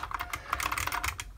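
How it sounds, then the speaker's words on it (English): Rapid typing on the mechanical keyboard of an IBM 6746 electronic typewriter, a run of crisp, close key clicks in an uneven rhythm, fairly quiet and heard on its own without talk. "lovely mechanical keyboard"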